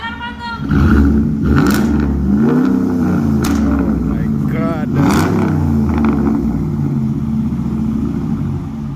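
A truck engine with a newly fitted exhaust revs loudly with a deep, rumbling exhaust, rising and falling several times, while people exclaim over it close by.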